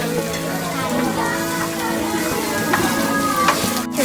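Samgyeopsal pork belly sizzles steadily on a grill at an unlimited Korean barbecue meal, a continuous close frying hiss with faint clinks, voices talking over it throughout.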